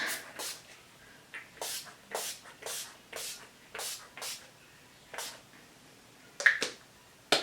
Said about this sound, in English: So I'm just going to spray it now.